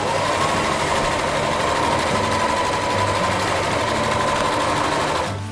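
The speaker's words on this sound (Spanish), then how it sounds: "Comenzamos entonces y bueno, vamos cosiendo." A sewing machine stitches fabric for a segmented pouf cushion, a steady fast mechanical whirring hum running continuously at close range and stopping at the end, with no talk over it.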